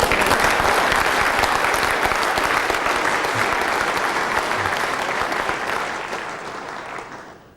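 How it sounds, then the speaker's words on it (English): An audience at a lecture on the EDSAC computer applauds, a loud, dense, sustained burst of clapping that slowly thins and fades away near the end. "Applaud, please."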